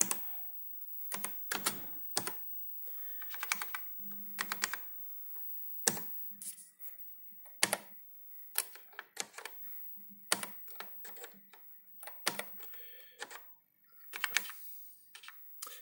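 Keys clack on an Amstrad CPC 6128 Plus home computer keyboard, irregular bursts of sharp taps with short gaps between them, close and dry, and no talking over them.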